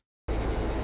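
A subway train from the 2019 film Joker cuts in abruptly after a moment of silence as a loud, close, heavy low rumble with rattling clatter, lasting under a second with no voices.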